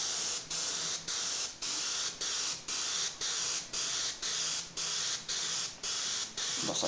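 Spray paint going onto a Boba Fett helmet dome in about a dozen short, even, close hissing passes, each split by a brief gap, with no talking.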